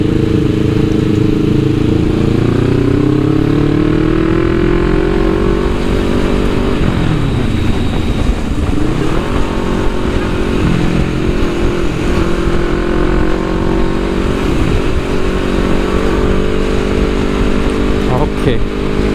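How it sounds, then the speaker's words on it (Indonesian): A Yamaha X-Max scooter engine drones steadily on a busy Jakarta street, with a loud, close hum that dips and climbs as the throttle changes. People talk over the engine noise. "Nah ini dia X-Max, motor yang pengen gue beli banget pas gue udah di dunia kerja."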